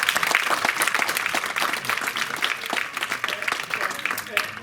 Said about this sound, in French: vous pouvez les applaudir de nouveau, Anne et Thomas